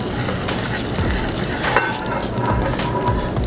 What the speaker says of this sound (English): So it's cooking slowly, nicely, gently.